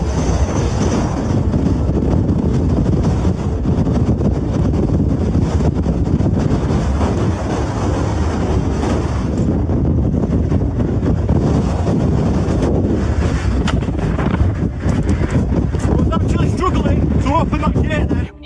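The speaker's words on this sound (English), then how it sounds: "The wind is getting stronger and stronger as we're getting higher." Strong, gusting wind high on a mountain during a camping trek, a loud continuous roar buffeting the microphone throughout, with a person talking over it.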